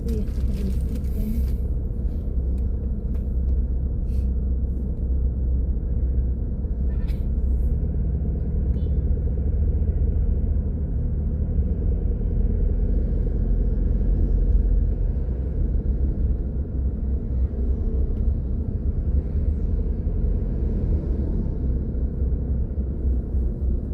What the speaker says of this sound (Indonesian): Banyak mobil gitu ya sekarang.